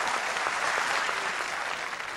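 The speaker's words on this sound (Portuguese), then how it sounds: "fez o suficiente para arrancar muitos aplausos" Sustained, dense applause from a crowd at a Ferrari car launch greeting Michael Schumacher's speech, an even wash of many hands clapping with no voices on top.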